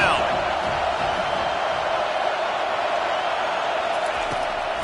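Broad, steady roar from a stadium crowd cheering on the defense on third down at a Texas A&M football game, loud and continuous throughout.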